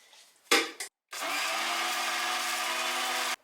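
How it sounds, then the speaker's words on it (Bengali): A kitchen blender purees onion, tomato, ginger, garlic, green chili and a spoon of yogurt into paste, with two short bursts followed by a steady, loud whirring run of about two seconds that cuts off abruptly. "এইবারে জাস্ট এটাকে ব্লেন্ড করে নেব।"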